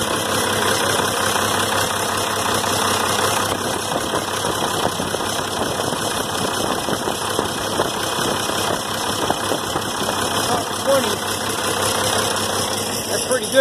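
An old diesel engine idles steadily after a cold start, with a continuous low rumble and a faint knocking rhythm. The sound stays close and even throughout.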